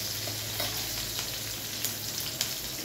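Green chilies frying in ghee for sabudana khichdi make a steady, soft sizzle with faint crackles and a few sharper pops, close by with no talking.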